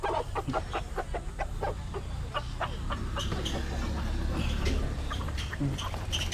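Chickens in a backyard cluck in quick, repeated calls over a constant layer of background noise, fairly near and steady throughout.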